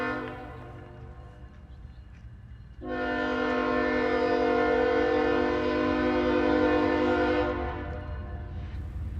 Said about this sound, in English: The train approaching is Q203, a combination of Autoracks cars and Intermodal cars